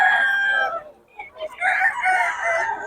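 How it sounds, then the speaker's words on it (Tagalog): Roosters crow loudly in long drawn-out calls, with chickens clucking around them; there is a short lull in the middle before the crowing resumes. "Kaganda ng mga manok ni boss yun."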